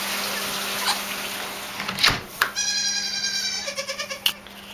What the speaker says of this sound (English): You think you hear goats, you do.